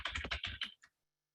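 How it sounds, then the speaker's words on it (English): Computer keyboard typing, a quick run of about eight close, crisp keystrokes over less than a second, followed by a faint final tap and then silence. "I'm typing here so that you could understand"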